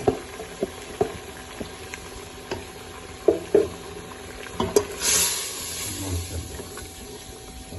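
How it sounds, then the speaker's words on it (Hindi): Aloo choliya roasts in ghee in a pan, with scattered taps and clinks of a stirring spoon over a low simmering hiss, then a brief louder sizzling swell midway. "घी डाल के इसकी करते हैं अच्छी तरह बुनाई"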